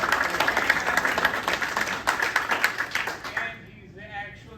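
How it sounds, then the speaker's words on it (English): An audience at a ham radio club section meeting at the Tampa Bay Hamfest claps in a brief, dense burst of applause that fades out after a few seconds, with a voice faintly underneath. "You can clap, sir."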